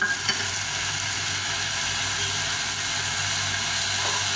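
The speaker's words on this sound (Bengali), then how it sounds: "খুব সুন্দর করে এটাকে কষিয়ে দিই" A ground paste of red and green chili with ginger sautéing in a pan for a Bengali fish curry, a loud continuous close sizzle and frying hiss that stays even throughout, no voices.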